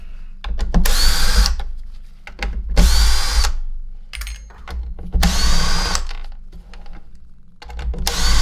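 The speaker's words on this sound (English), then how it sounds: "There is a T20 that does fit in there on the drill." A power drill fitted with a T20 bit, used to repair a Miele C2 S6 vacuum cleaner, whirs in three loud bursts of about a second each, separated by quieter clicks and handling noise.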